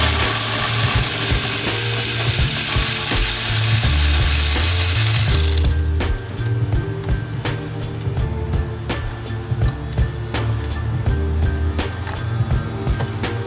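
A ratchet clicks rapidly and loudly while bolts are removed from a BMW, bursts of pawl clicking in quick runs with brief pauses between, first under a broad rushing noise that cuts off partway.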